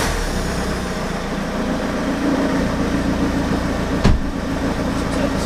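A Citroen C4 Grand Picasso engine runs at a steady close idle, a constant low hum with one brief thump partway through and no talking.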